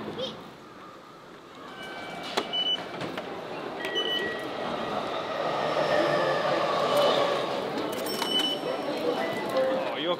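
A train between Tokyo and Yokohama runs with a continuous rolling rumble, rising a little midway, marked by scattered sharp clicks and rattles from the carriage. Faint voices murmur beneath the rail noise.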